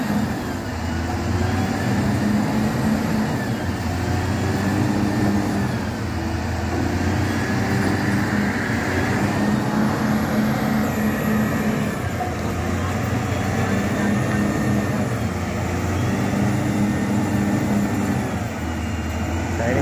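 A LiuGong machine, stuck in soil and worked by a trainee operator, runs its engine with a steady low rumble and a repeating droning hum throughout, loud and close, with no clear talk.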